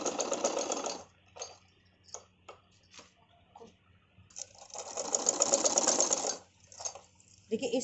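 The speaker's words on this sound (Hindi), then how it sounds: "और इस पे हम करेंगे सिलाई" A sewing machine stitches a neck design onto fabric laid over a newspaper pattern, running in two longer loud bursts with short start-stop taps between them, close by and without talk.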